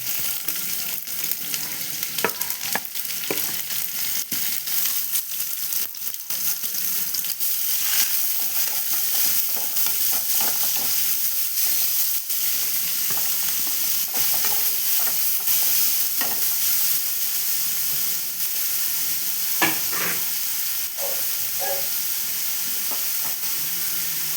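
Chopped onions fry and sizzle in a pan, stirred with steady scraping and clinks, loud and continuous with no talk over it.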